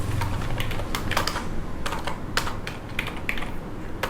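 Quick, light clicking of a computer keyboard, irregular bursts of keystrokes with short pauses, close by and fairly quiet, with no talking.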